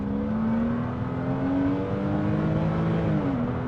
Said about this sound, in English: accelerating full power in auto